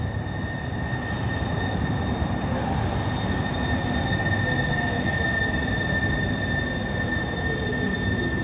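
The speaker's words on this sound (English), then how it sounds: "Here comes the Link Light Rail." A Seattle Link Light Rail train pulls into the Chinatown station, a loud, steady rumble of wheels on track with sustained high-pitched squeal tones running throughout, close by and without talk.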